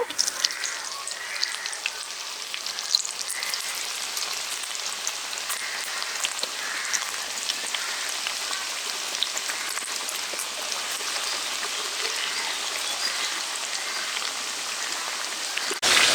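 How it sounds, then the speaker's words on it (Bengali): Large KFC-style chicken pieces deep-fry in hot oil, giving a loud, steady crackling sizzle that carries on without a break and with no voices. "সবশেষ বেসটাও ভেজে নিব"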